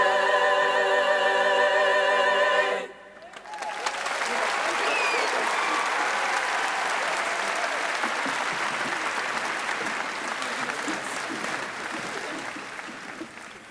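Sustained applause from a large graduation audience at East Chapel Hill High for the school choir, a dense steady patter of many hands beginning abruptly after the singing ends and continuing evenly before slowly thinning.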